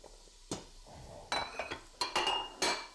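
Chopped onions, carrots and celery tipped into a pan of olive oil over medium heat, heard as a few separate clattering knocks of utensil on pan with faint sizzling between them.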